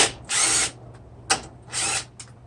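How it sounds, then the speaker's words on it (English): A power tool whirs in two sustained bursts, taking nuts off the power steering reservoir of a BMW N54 135i, with short clicks between runs; close and fairly loud, no talk. "You just want to take off these 2 nuts and the washers."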